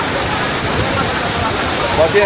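A cold Himalayan waterfall near Bir Billing, Himachal Pradesh, roars as a loud, steady rush of water close by, while a person speaks briefly over it.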